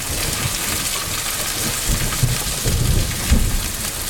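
A thunderstorm with steady rain drumming on an RV or truck roof, broad continuous hiss with low thunder rumbles building midway and a stronger boom near the end.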